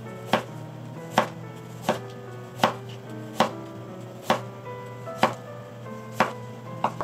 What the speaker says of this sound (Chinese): 将麻竹笋切成3大段，然后顺纹切成片状